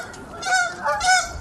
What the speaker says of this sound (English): Duck Symphony.